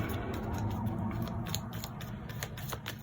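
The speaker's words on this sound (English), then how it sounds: "I'm gonna pull some cards from here." Tarot cards pulled and shuffled from a deck, giving a steady close papery rustle with soft repeated flicks and slides over about three seconds, no voices.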